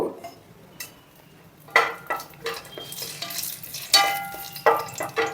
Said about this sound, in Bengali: তেল গরম হয়ে গেছে এর মধ্যে আমরা দারচিনির টুকরো দিলাম এক ইঞ্চি তেজপাতা দুটো জৈত্রীর ফুল হাফ আর চারটে লবঙ্গ